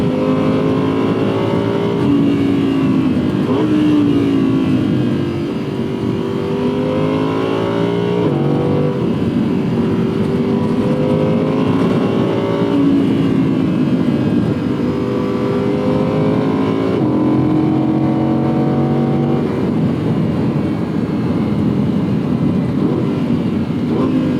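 A 2018 Audi R8 V10 Plus Spyder's engine pulls hard on throttle, its loud, continuous note rising and falling through gear changes across the whole stretch, with no talking over it.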